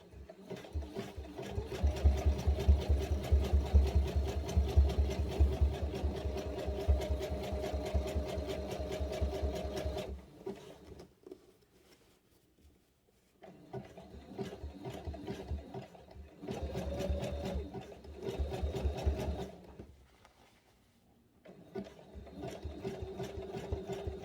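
A sewing machine stitches straight seams through a denim tote bag made from a pair of jeans, running in steady motor bursts with a short pause around the middle and another near the end, loud and close with no talking.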